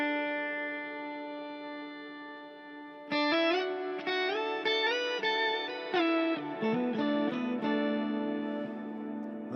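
An electric guitar plays sustained chords and then a run of notes through a Headrush pedalboard reverb effect, each ringing out in a wide wash of reverb.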